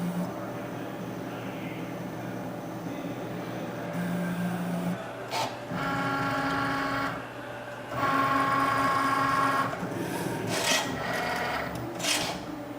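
A Cricut cutting machine scoring and cutting paper for a Valentine's Day pattern project, giving a steady mechanical whir with repeated motor buzzes, short pauses and brief clicks as the carriage moves, fairly close and alone.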